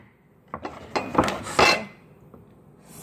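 A knife taps and scrapes against a dish or bowl while pet food is cut into small pieces, giving a few sharp clinks and clatters spaced over a couple of seconds, close by and otherwise quiet.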